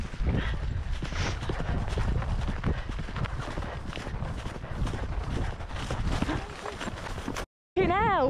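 Horse cantering on an outdoor hunt ride, with a steady run of hoofbeats up close under wind buffeting and a rider's voice. The sound cuts out briefly near the end.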